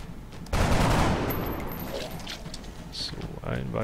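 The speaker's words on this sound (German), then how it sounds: "Weiterer erfolgreicher Schuss von Lea Miller, die aber auch noch nichts getötet hat, dadurch, dass sie nur diesen Karabiner hat." Gunfire from a carbine in the turn-based strategy game X-Com: The Long War, a burst of shots starting sharply and trailing off amid game noise, with someone talking over it.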